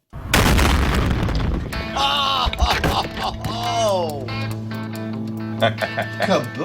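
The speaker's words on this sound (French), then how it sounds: "Ça, c'est une belle explosion." A huge explosion of 1 kilogram of C4 bursts out loud and sharp, its heavy rumble rolling on for seconds with scattered debris noise and a voice over the fading roar.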